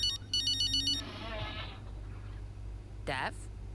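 Phone ringtone from the F1 25 video game, a bright electronic repeating chirp pattern in the opening second, followed by game ambience and a brief high whooshing sweep near the end.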